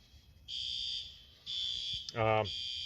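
A shrill fire alarm being tested sounds in long, repeating tones with brief gaps, faint and steady, while a voice speaks briefly near the end.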